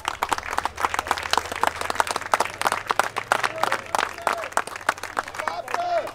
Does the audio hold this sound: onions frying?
no